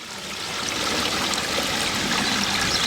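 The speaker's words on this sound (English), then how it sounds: "So we've got a pondless water feature with a stacked slate sphere." Water trickles steadily over a 60-centimetre stacked slate sphere in a pondless garden water feature, a continuous close splashing and babbling with no pauses or voices.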